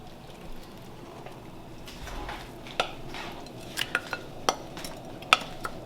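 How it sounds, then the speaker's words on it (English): Onion and celery cooking in butter in a pan for Thanksgiving dressing, a soft low sizzle under scattered clinks of a spoon against the pan that grow more frequent toward the end. "There is nothing better than the smell of onion and celery cooking together with butter."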